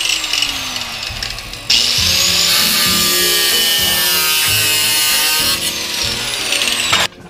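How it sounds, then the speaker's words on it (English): A small piece of steel is cut with a power tool and cleaned up with an abrasive disc for a Nissan KA24DE engine repair, giving a loud, close, sustained grinding whine with a short lead-in and an abrupt stop. "I cut out a little piece of steel, then just cleaned it up with a floppy disk and some sandpaper"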